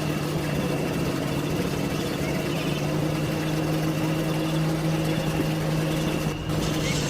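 A truck engine in an Android truck-driver simulator game drones steadily and evenly at speed, a constant low hum under broadband road noise with no pauses.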